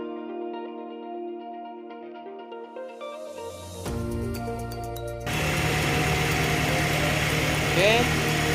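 The engine of a Hyundai Atoz car idles with a steady low hum under background music, and a person talks over it once the engine comes in.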